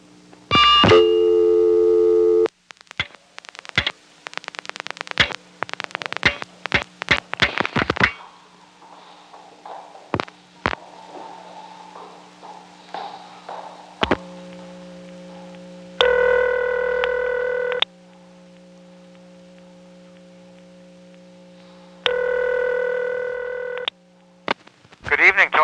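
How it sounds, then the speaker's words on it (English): Recorded telephone call dialed through a Bell crossbar 5 exchange in Provincetown: bursts of dial pulses and touch tones, a steady dial tone, then repeated ringback tones, all clear and fairly loud, without speech. "here's a call recorded from the Provincetown 487 Crossbar 5. Next, I'll dial 349-6111."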